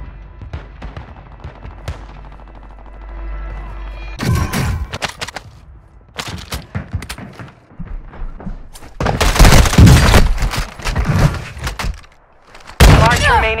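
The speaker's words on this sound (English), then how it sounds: "Taking effective fire!" Rapid bursts of automatic gunfire and single shots in a Call of Duty match, loud and close, mixed with explosions and combat noise while voices call out over the action.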